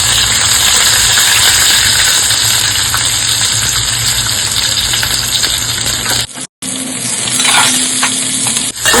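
Onion frying in a pan for kande pohe, a loud dense sizzle stirred continuously, with a brief drop out and scraping near the end.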